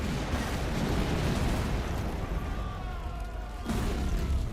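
Mortar fire in the video game Hidden Stroke 2, a dense, continuous rumble of distant booms and bursts layered into a loud battlefield din that never lets up.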